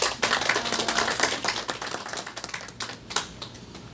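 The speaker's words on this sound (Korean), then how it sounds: "우리 박수 한번 하겠습니다." Congregation in a church claps together for a welcomed guest, a bright, crackly patter of many hands that stays fairly steady for several seconds, slightly uneven and thinning a little near the end.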